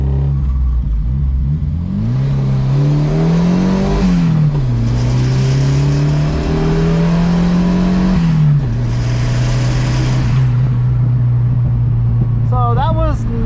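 A boosted Volvo wagon's engine pulls hard uphill under load, a loud, steady droning roar that climbs in pitch, dips at a gear change and climbs again before settling, heard from inside the car.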